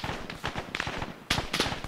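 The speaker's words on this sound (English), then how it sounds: "The gunshots are where we are." Rapid gunfire from the video game Arma 3 during a firefight near a compound garage, a burst of sharp cracks in quick succession, loud and close, with a second cluster near the end.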